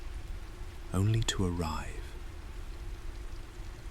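Steady rain falls outside a warm room as a soft, even hiss that runs under a brief whispered voice and continues alone afterward.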